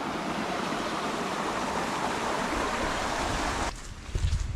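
Mountain stream water rushing steadily along a hiking trail at Nuwaragala, a loud continuous close-up flow that drops off sharply near the end with a few nearby thumps.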